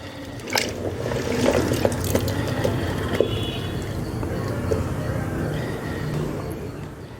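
Onions are rinsed in water with soft splashing, sloshing and dripping, nearby and fairly quiet, with no talk.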